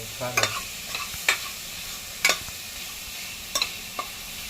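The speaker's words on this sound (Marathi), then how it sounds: "आणि हे छान परतून घेऊया त्याचा कच्चेपणा जाईपर्यंत" Garlic paste and vegetables sautéing in a pan for a traditional Makar Sankranti bhaji, with a soft sizzle under a handful of sharp stirring scrapes spaced about a second apart, close and without speech.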